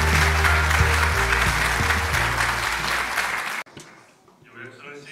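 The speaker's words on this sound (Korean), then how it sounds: "큰 박수로 환영해 주시기 바랍니다." Loud, dense applause from a large audience greets South Korea's foreign minister walking onstage at the AI Global Forum opening ceremony, sustained for about three and a half seconds before cutting off abruptly into a quiet hall.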